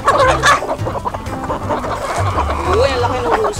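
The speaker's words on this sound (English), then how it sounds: "ang laki ng rooster" On a farm in Salcedo, Ilocos Sur, Philippines, chickens cluck and a large rooster calls amid a busy barnyard, with people talking over the birds throughout.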